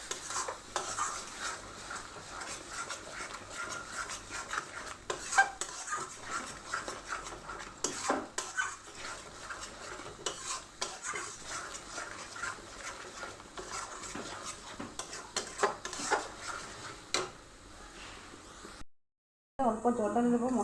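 Egg biryani ingredients stirred together in a pot, with a steady run of scraping spoon-on-metal taps and clinks, a soft sizzle underneath, close and moderately loud, ending after a short pause.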